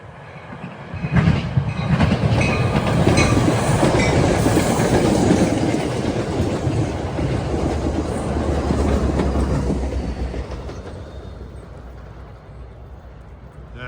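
Commuter train 1174, running Suffern to Hoboken on the ex-Erie main line in northern Bergen County, New Jersey, rumbles past loud and close, with rhythmic clickety-clack of wheels over rail joints that builds, holds, then fades.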